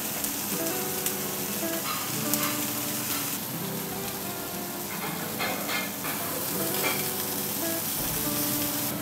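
Food sizzles steadily in a hot pan, a continuous crackling hiss with occasional louder pops and stirring scrapes, close by.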